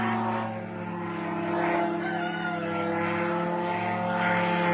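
An attack drone flies overhead toward an airfield near a village in the Kursk area, a steady droning propeller-engine hum with strong harmonics that holds loud and even throughout.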